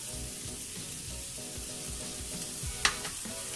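Minced garlic, three crushed cloves, fries in a pan with a quiet, steady sizzle and occasional stirring scrapes. One brief sharp clink sounds near the end.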